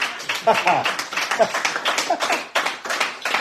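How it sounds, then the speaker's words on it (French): Applause for a float at a spring parade or festival in the Loire region, a dense crackle of many hands clapping throughout, with people chattering and calling out over it. "Ah là, ils applaudissent la Loire."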